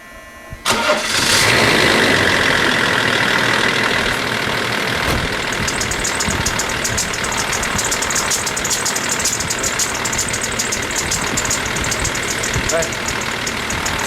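A Range Rover P38 that had sat unused for months cranks and fires up, then settles into a loud, steady idle with a faint high belt-like whine running over the engine hum.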